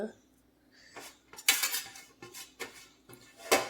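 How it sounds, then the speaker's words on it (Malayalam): A spoon clinks and scrapes against a pot while stirring grated coconut into millet upma, with several sharp metallic strikes in an irregular rhythm, close and fairly loud with quiet gaps between. "ഈ നാളികേരം എല്ലാ ഭാഗത്തും എത്തും വിധം നമുക്ക് സ്പൂൺ വെച്ചൊന്ന് ഇളക്കി കൊടുക്കണം"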